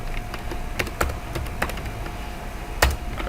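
Keys clack on a computer keyboard in a short burst of typing, with scattered irregular taps and a couple of louder strikes, close and clear against a faint steady hum.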